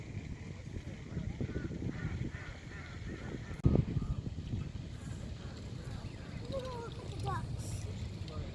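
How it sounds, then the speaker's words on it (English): Outdoors, a duck gives a single sharp honk partway through, amid steady background noise, faint calls and people talking. "There's a duck."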